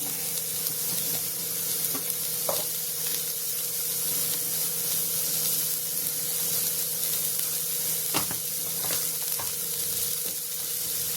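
Ghee sizzling in a pan while making jeera rice, a steady hissing sizzle with occasional sharper pops and crackles, close and even in loudness throughout, no one speaking.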